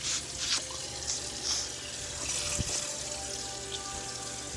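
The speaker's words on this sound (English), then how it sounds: "Sucking the water out." Water being sucked out during egg preparation in a kitchen, a steady wet rushing hiss with a few soft clicks and gurgles, close by and without talk.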